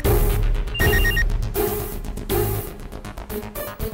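A telephone rings in a Tamil TV serial scene, a series of close, loud electronic ringing bursts separated by short pauses, the last one cut off early, with background music underneath.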